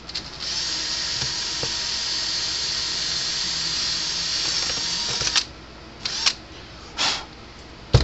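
A small drill bit boring a hole in a PEL PE53 electric fence charger, a loud, close, high steady whine for about five seconds, followed by a few short bursts.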